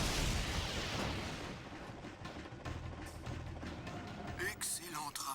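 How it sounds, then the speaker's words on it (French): A barge blowing up in the video game Jak II, a loud rumbling blast that opens the clip and decays into crackling debris and scattered bursts, with game noise continuing behind. "Donc voilà, la barge va exploser."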